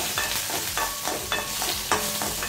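Curry leaves and garlic sauté in hot oil for a Chettinad home-cooked lunch, with a steady sizzle and spatula strokes scraping the pan every half second or so, close and loud, with no talking.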